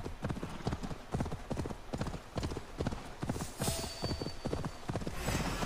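Horse hooves clip-clop in a steady galloping rhythm in the video game Assassin's Creed Valhalla, loud and continuous with faint game ambience, and no talk.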